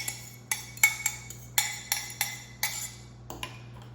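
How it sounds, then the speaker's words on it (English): Egg stirred with a fork in a frying pan, a quick run of about a dozen sharp metallic clinks and scrapes in an uneven rhythm, close and fairly quiet over a low steady hum. "And then I'll add in my egg and we'll stir that around since we don't have enough room in here."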